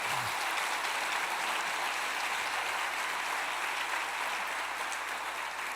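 A church congregation claps steadily, a dense, sustained round of applause that holds at an even level throughout.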